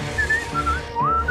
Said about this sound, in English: An indoor whistle brings luck's dismissal!